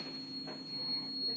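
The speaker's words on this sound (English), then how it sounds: "That's the alarm for the baby's bed here." A baby's bed alarm beeps as a steady high electronic tone, holding on and off through the short moment, near and moderately loud over low room hum.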